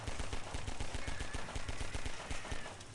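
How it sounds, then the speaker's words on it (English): Rapid automatic gunfire in Garry's Mod horror play, a dense, loud, continuous burst of evenly spaced shots filling the whole moment without speech. "I'll provide covering fire."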